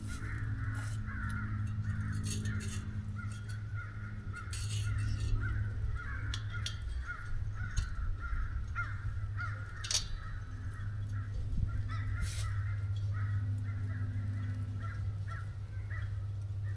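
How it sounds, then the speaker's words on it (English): Crows caw repeatedly at a distance over a farm pasture, harsh calls coming in irregular bursts over a steady low engine-like hum. "I heard the crows going crazy"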